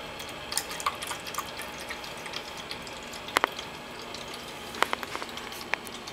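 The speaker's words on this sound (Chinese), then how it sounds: "这是一个喷水池哦" A small pet water fountain, a gift for cats, trickles steadily and faintly nearby, with a few brief, sharper drips and splashes rising above the soft running water.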